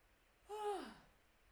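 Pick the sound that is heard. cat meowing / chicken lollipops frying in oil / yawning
yawning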